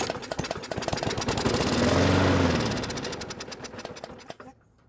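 Small two-stroke engine on a Weedeater mower sputters and runs briefly with a rapid, rattling idle, swelling in the middle and then dying out, close and fairly loud.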